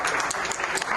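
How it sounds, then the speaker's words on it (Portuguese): Hospital colleagues clap for a recovered secretary leaving the ward, a brief burst of dense, moderately loud applause from a small group nearby. "ganhou o carinho dos colegas e uma salva de palmas."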